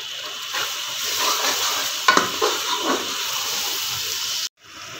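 Shelled peas frying in masala for keema matar, a steady sizzle and hiss with a few sharp stirring scrapes near the middle, running continuously until an abrupt cut near the end.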